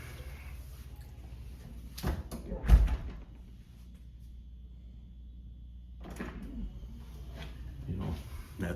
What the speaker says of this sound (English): the door shuts and it doesn't lock because it can't lock because you've circumvented the latch